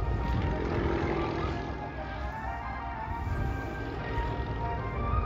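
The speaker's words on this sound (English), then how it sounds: "Now watch as he snap rolls the airplane." Aerobatic propeller airplane snap rolling at an airshow, a steady loud engine drone with a faint rising whine, continuous and fairly near with no voices.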